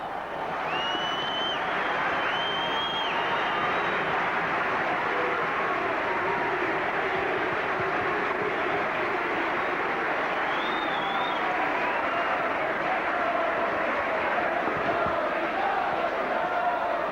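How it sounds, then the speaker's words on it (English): A rugby league crowd at a St Helens match against Australia roars steadily after a Saints try, a loud, sustained wash of cheering with a few whistles cutting through, continuing unbroken throughout. "The Saints crowd come alive!"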